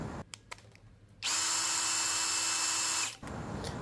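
A red DCK KDJZ03-13 cordless brushless impact drill spins up and runs at a steady high-pitched whine for about two seconds, then stops, with faint clicks before it and quiet room tone around it.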